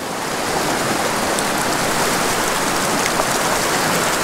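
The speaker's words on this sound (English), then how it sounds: "That is a rain, right?" Dense, steady hiss of rain falling outdoors during tenkara fly fishing, a continuous wash of patter at constant loudness with no voices.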